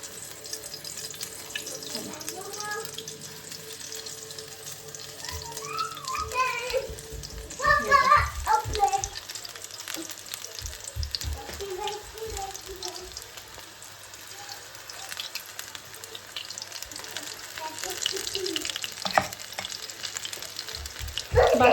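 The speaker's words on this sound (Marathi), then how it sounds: "तर चला आता मी फटाफट हे आपले भजे टाकते" Bhaje fritters drop into hot oil in a home kitchen during Holi cooking, giving a continuous bubbling sizzle with light clatter, while someone speaks intermittently nearby.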